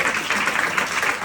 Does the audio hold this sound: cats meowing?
no